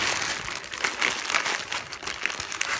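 Scrap clay is wrapped into a plastic bag, giving a close, steady crinkling and rustling of plastic with small crackly bursts throughout, and no voices.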